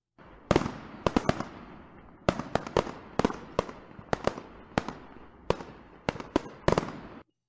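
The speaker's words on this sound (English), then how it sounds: "his theme song was drowned out by fireworks" Fireworks go off at a wrestling event, a rapid series of loud, sharp blasts in several bursts with short pauses between them.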